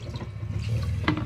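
Water poured into a cooking pot for chicken tinola seasoned with salt and lemongrass: a close, steady splashing pour that ends in a brief, brighter splash.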